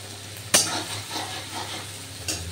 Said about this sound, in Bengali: পেঁয়াজ আর রসুন ভালো করে ভাজা হোক